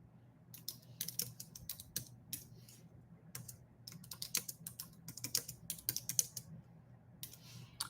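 Typing on a computer keyboard, close and quiet, in irregular bursts of rapid key clicks separated by short pauses.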